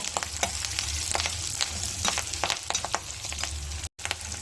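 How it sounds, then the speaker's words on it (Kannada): Curry leaves and dried chillies frying in oil over a low flame, the tempering for a puffed rice dish, give off a steady, close crackling sizzle with sharp pops throughout and no voices. "ಕರ್ಬೇವು ಚೆನ್ನಾಗಿ ಗರಿ ಗರಿ ಆಗೋವರೆಗೂ ಎಣ್ಣೆಯಲ್ಲಿ ಲೋ ಫ್ಲೇಮಲ್ಲಿ ಹುರ್ಕೊಳ್ಬೇಕಾಗತ್ತೆ"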